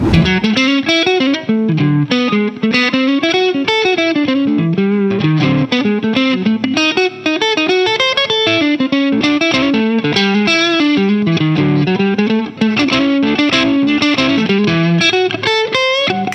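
Electric guitar through a Wampler EGO76 compressor pedal playing a busy, sustained melodic line with a compressed, effected tone. It stays loud and even throughout, with no voices.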